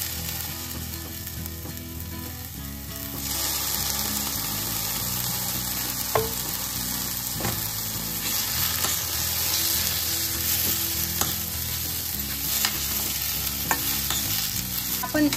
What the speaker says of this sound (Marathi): हा मसाला सुद्धा मी 1-2 मिनिट छान परतून घेणार आहे, म्हणजे ते सगळं मिश्रण छान एकजीव होईल।